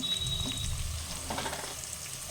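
Turmeric going into hot tempering oil for a village country chicken curry: a short, soft sizzle with light stirring scrapes, close and fairly quiet, no voices.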